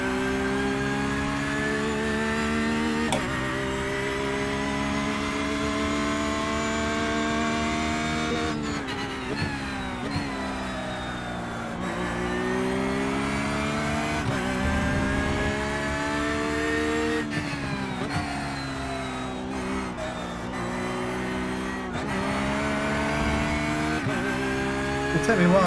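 Porsche 911 GT3 R race car in the iRacing simulator, its engine droning steadily at high revs with repeated rises and drops in pitch through shifts and corners, continuous and fairly loud.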